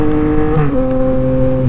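A Yamaha MT-09 motorcycle pulls hard under steady throttle, its engine note rising in a brief, loud, close-up burst with clear harmonic whine.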